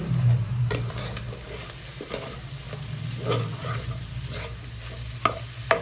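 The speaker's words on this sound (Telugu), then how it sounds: "ధనియాల పొడి, జీలకర్ర పొడి వేసుకొని కలుపుకోవాలి" Coriander and cumin powder being stirred into a tuna curry, with low bubbling and repeated scraping strokes of a spoon against the pan that sharpen into clicks near the end.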